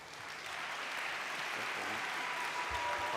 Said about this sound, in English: Can we get one applause for the birthday girl?